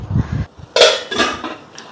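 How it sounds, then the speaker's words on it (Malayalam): A lid clatters onto a metal idli steamer pot holding ragi idli batter, giving two sharp metallic clanks followed by a lighter rattle, close and fairly loud with no talk. "ഇനി പാത്രം ഒന്ന് അടച്ചിട്ട് സ്റ്റീം ചെയ്തെടുക്കാം."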